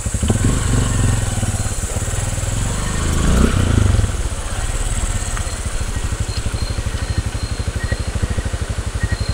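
A motorcycle engine idles close by, its steady rhythmic chugging continuous throughout, with some rumbling and handling noise early on.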